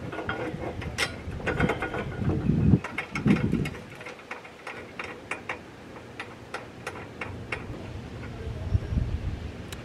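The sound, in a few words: tightening brake bolt with a ratchet on Nissan S13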